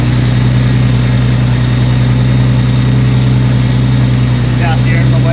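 An idling Nissan Skyline R33 with an RB25DET engine runs steadily up close, with a constant low drone and a scraping, scratching noise from a faulty power steering system layered over it.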